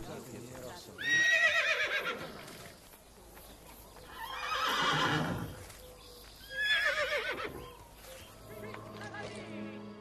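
A horse in the Assassin's Creed 2 video game neighs in three loud, drawn-out whinnies spaced a few seconds apart, with faint hoof clip-clops between them.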